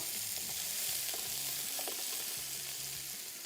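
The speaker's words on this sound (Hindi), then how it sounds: "अगेन पहले प्याज फ्राई करेंगे" Onions frying in cooking oil for biryani gravy, a constant loud sizzle with occasional stirring scrapes, close by and without talk.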